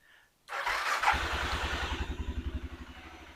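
An Aprilia Pegaso motorcycle engine is started: a short cranking burst catches, then the engine settles into a loud, close, chugging idle whose pulses slow steadily as if about to stall.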